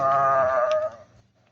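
A single sheep bleats loudly and close, one wavering drawn-out call that breaks off sharply, followed by a faint trailing sound.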